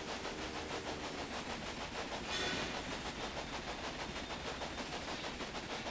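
A train in the Railway Empire video game rolls steadily past with a regular clickety-clack of wheels over rail joints, loud and continuous, with a brief brighter screech midway.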